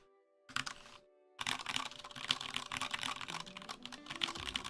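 Typing on a mechanical keyboard with Cherry MX Brown switches: a rapid, close run of soft, muted clicks and thocks that starts after a brief pause, with no talking.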